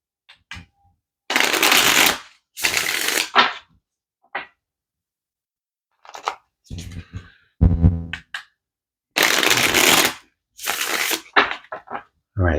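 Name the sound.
shuffling tarot cards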